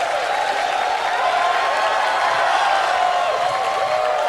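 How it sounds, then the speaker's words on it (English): Steady crowd applause fills an esports arena at the Splatoon 2 World Championship grand finals, a dense, even wash of clapping that holds without pause throughout. "we want to hear some applause for all 4 of our teams from America, Europe, Australia, New Zealand, and Japan"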